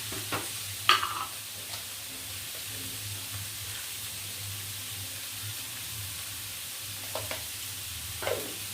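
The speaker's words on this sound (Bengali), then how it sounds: "এবারে আমি এই ভেজিটেবলসগুলোকে একটু ভেজে নেব।" Vegetables fry in a pan for dalia khichuri with a low, steady sizzle, and a few brief scraping stirs stand out near the start and toward the end. No one speaks.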